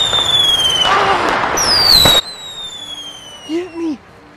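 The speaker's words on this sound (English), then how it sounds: "He has a flipping firework." A firework fired at close range outdoors, a loud crackling burst with whistling streaks that cuts off abruptly, followed by a person shouting.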